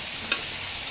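Eggplant stir-fries with tomatoes in a pan, giving a soft, continuous sizzling hiss with one brief scrape or clink near the start.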